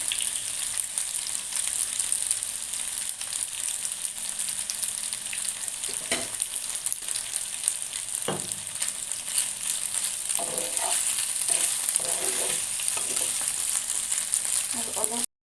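Macaroni in tomato sauce fries in a pan with a loud, steady hiss that runs the whole time. A few sharp knocks and scrapes come through as it is turned.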